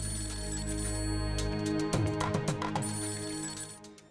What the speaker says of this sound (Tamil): சார் உங்களுக்கு ஃபோன் வருது